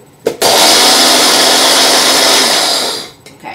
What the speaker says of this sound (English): I'm going to put it in my best friend, the Magic Bullet, to grind it up to make it a little more fine